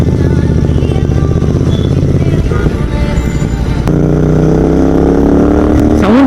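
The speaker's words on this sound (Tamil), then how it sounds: "ஏன்னா சூப்பர் பைக்ல வர சவுண்டு மாதிரி வந்துட்டு இருக்குங்க." A Royal Enfield GT650 motorcycle with an aftermarket exhaust revs loudly and close with a deep, throaty exhaust, rising and falling in pitch before climbing again toward the end.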